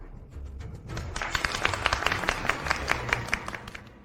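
Applause during an office meeting, a steady patter of many hands clapping that swells after the first second and holds at moderate volume, with sharp individual claps standing out, no talking over it.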